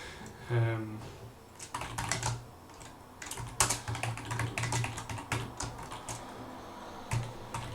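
Typing on a computer keyboard, a close run of irregular soft key clacks over several seconds, preceded by a short spoken remark.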